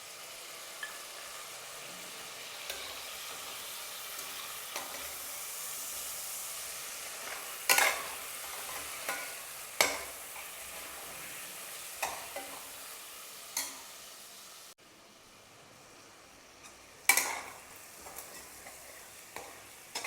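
Tomato pieces fry quietly in a pan with ginger, garlic, coriander powder and curry leaves. A soft, constant sizzle is broken by sharp, intermittent scrapes and clinks as a spoon stirs every couple of seconds.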